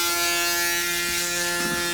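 A Braun Series 9 Pro electric shaver hums with a steady, close mechanical buzz while it shaves stubble, and brief rasping bursts appear as it passes over the hair.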